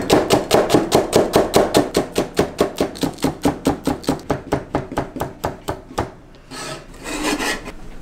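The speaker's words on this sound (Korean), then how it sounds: "일단 파부터 대충 썰고" A knife chops green onions on a cutting board in fast, even, rhythmic strokes, close and crisp. After a short pause, a brief scraping sound follows.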